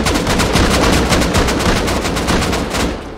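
Rapid automatic gunfire from a Rust video game firefight aimed at turrets, a loud, close, unbroken stream of shots with no talking.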